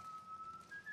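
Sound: person whistling

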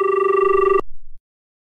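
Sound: telephone ringing

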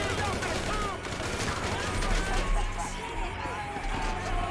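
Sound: gunfire in the video game GTA V

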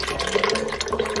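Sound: water poured into container with oil and honey

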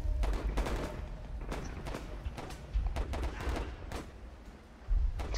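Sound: gunfire and battle sounds in video game Warfare 1917

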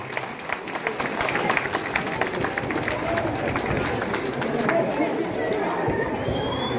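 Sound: applause from students

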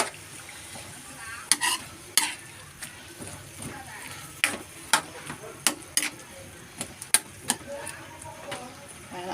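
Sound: stirring string beans in frying pan

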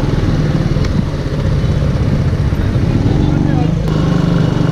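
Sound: Benelli TNT 135 motorcycle engine while riding

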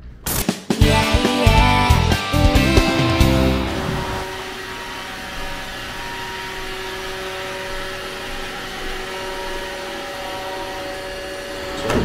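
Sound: vacuum cleaner running

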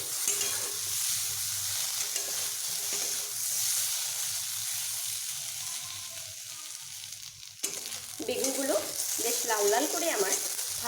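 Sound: frying eggplant pieces in oil

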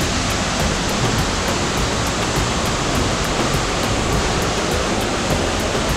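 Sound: waterfall cascades on the Rulles river, Belgium

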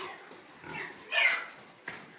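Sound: pigs grunting

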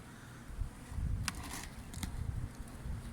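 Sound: honeybees at the hive

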